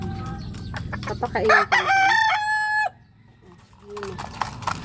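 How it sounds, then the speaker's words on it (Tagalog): Backyard chickens, including two pure butcher pullets, clucking with a rooster crowing loudly nearby, bursts of calls close to the listener before quieter clucks and a brief spoken phrase. "Ito ay mga pure butcher na pulet, dalawa sila dito."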